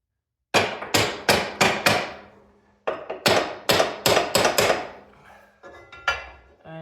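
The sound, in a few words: hammering wood stove door parts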